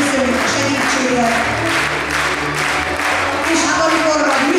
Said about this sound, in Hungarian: Köszönjük a sok tapsot, remélem jól szórakoztak.